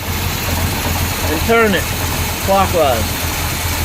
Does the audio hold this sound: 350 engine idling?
yes